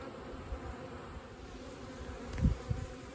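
Honey bees from a swarm buzz in a low, steady drone close by, with a few individual bees humming louder as they pass near.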